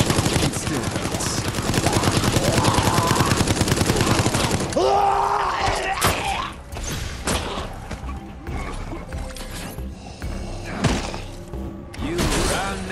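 Small-gun shots in the Resident Evil Resistance game, a dense run of rapid reports over busy game sound and music, followed by scattered sharp bangs and thuds against a noisy, loud backdrop.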